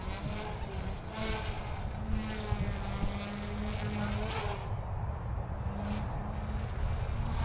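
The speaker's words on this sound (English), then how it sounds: "It's a great flying helicopter." OMP M1 micro RC helicopter in flight, a steady whirring buzz of rotor and motor holding at an even level throughout with slight surges, mixed with wind and outdoor noise.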